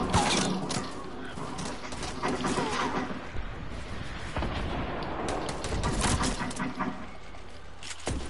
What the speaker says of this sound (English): And are you shooting with a sniper?